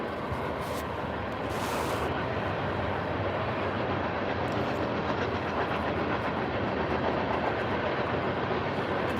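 A train passes about half a mile away, a steady broad rumble and hiss with faint clickety-clack that holds at an even level throughout, with no voices over it.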